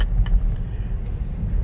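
Road traffic backed up on a bridge during a vehicle parade gives a steady, close low rumble of car engines and tires, with a couple of brief faint higher noises.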